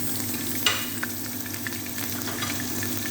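Soft, tender washed meat frying in oil for an Arabian-style biryani, a steady close sizzle with a sharp clink near the start, then lighter scrapes and taps from turning the pieces, without any talk.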